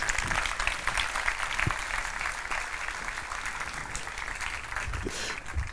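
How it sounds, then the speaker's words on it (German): Audience applause at a memorial church service, a steady wash of clapping heard faintly from a distance, continuing evenly without voices. "einen warmen Applaus"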